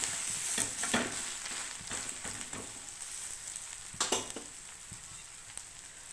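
Protein adai fries in a generous amount of oil on a pan, giving a soft continuous sizzle broken by a few sharp scraping and clinking strokes of a spatula, with no speech.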